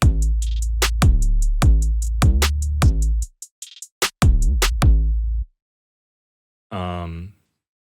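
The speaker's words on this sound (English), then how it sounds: "And then I threw in this hat loop too." Crisp hi-hat ticks run in a quick loop over a thumping kick and snare beat, then the pattern drops out.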